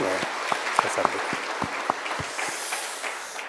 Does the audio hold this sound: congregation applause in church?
yes